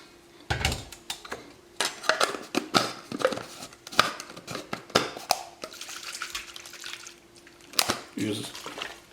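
A piece of garlic being rinsed under running water for an organic garden spray, with irregular splashes, drips and clattering bursts close by.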